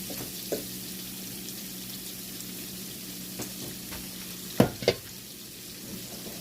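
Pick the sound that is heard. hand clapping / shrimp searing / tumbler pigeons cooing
shrimp searing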